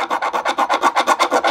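A knife blade scrapes material in about ten quick, even back-and-forth strokes, a close, raspy rhythmic rubbing.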